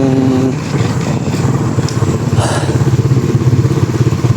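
Steady engine drone of a rented motorcycle being ridden, a continuous close rumble with rattling, throbbing texture throughout and no talk.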